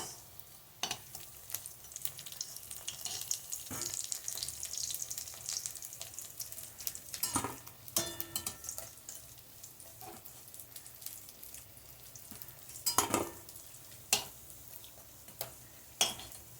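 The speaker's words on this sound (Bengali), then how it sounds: "মাছগুলো লাল লাল করে ভাজা হয়ে গেছে।" Fish frying in a kadai, a soft continuous sizzle broken by several sharp clatters of a spatula against the pan.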